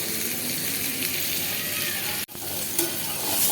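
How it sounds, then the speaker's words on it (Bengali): Potatoes frying in a pan for a home-cooked Bengali lunch: a steady, close, loud sizzle with crackle throughout, broken by one brief dip partway before the hiss resumes. "দেখো আলুগুলো ভেজে নিচ্ছি।"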